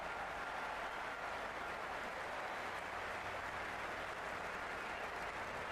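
A large crowd in the video game Cricket 26 roars and applauds continuously during a Zimbabwe vs West Indies match, a dense wash of cheering that holds steady throughout without any clear individual voices.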